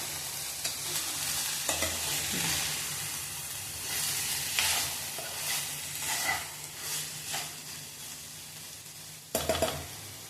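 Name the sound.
soya chunks being stir-fried in pan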